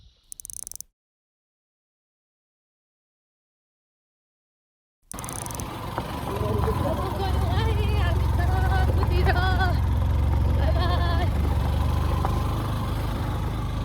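A motorbike engine labours uphill on a rough road in southeast Nepal between Damak and Sandak, a steady loud drone rising after a brief silence, with talking over it.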